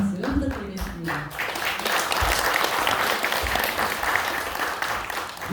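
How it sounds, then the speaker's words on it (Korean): At a Buddhist forum gathering in Korea, a few distinct claps start things off before building into sustained, full applause from a large crowd, steady and fairly loud for several seconds. "감사의 박수 부탁드리겠습니다"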